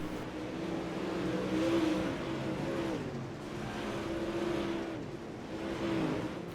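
Super late model race cars lapping the dirt oval at Limaland, a continuous loud engine drone that swells and fades as the cars sweep around the track.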